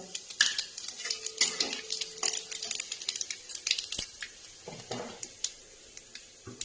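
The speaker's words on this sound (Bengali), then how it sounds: "কড়াইয়ে তেল আছে ওর মধ্যে শুকনো লঙ্কা দিয়ে দিলাম ফোড়নে" Dried red chillies with panch phoron and radhuni tempering in hot oil in a wok, light crackling sizzle under repeated metallic stirring clinks and scrapes, fairly close, no speech.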